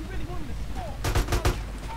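Rapid bursts of gunfire from a police helicopter in GTA San Andreas Definitive Edition, several sharp cracks clustered near the middle over a steady game backdrop, with a voice talking before them.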